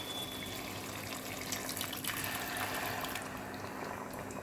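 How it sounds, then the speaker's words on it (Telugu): A glass of water poured into egg gravy in a cooking pot, a steady watery rush running close and loud throughout, with no talk. "just 1 glass of water add చేస్తున్నాను"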